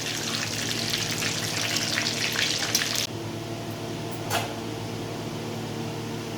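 Whole garam masala frying in oil in a pan, a steady bright sizzle that drops off abruptly partway through, leaving a low hum with one brief faint sizzle flare afterward.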